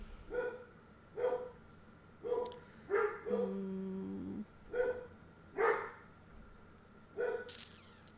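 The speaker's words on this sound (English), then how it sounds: "This doggy." A dog barks in short, evenly spaced bursts, about eight in a row, with one drawn-out whimpering whine partway through, fairly quiet and with no talking.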